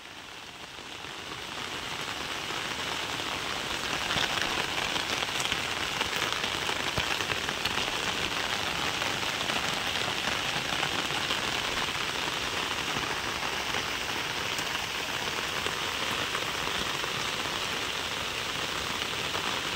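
Heavy rain pours steadily outdoors, a constant dense hiss of drops hitting the surface that swells in the first seconds and then holds unbroken with no voices.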